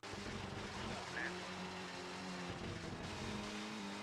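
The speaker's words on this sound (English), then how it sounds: "because it's probably pretty loud with the engine there" A steady, loud rally car engine roar in a PlayStation video game drones throughout at an even pitch, like a car running at speed, with a continuous hum and no pauses.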